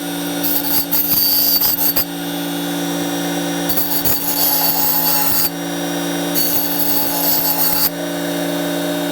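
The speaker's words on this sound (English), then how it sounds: "Turn it on, grind it down." Tiger's Teeth blade sharpener grinding new teeth onto an oscillating multi-tool blade: a steady motor whine with three bursts of harsh grinding, each about two seconds long, close and loud, no talking.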